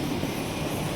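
A metro train at a station gives off a dense, steady rumble and roar, loud and continuous throughout with no clear voices over it.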